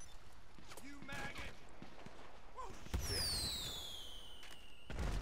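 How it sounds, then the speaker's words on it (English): Fireworks in Grand Theft Auto V, a burst of pops followed by long whistling streaks and a loud crack at the end, under chatter and other game noise. "Fireworks."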